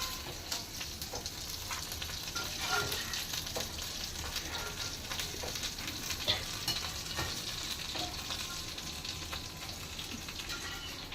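Dried red chilies frying in a pan for gongura chutney, a soft, steady crackling sizzle with occasional light stirring clicks, heard close and continuous without voices.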